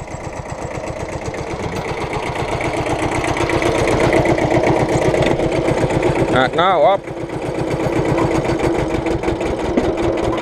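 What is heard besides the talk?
tractor engine under hydraulic pump load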